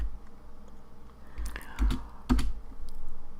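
Keys clack on a computer keyboard while code is typed, a few close bursts of clicks and taps over a soft room hum, with no voice present.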